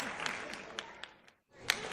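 Hand clapping on a podcast: a steady rhythm of fairly faint claps under a talking voice, stopping briefly near the end, then resuming with a sharper clap.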